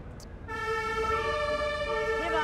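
An ambulance siren wails along a street in Kreuzberg, Berlin, starting after a brief quiet moment and holding steady, loud and fairly close, its tones sweeping over traffic noise.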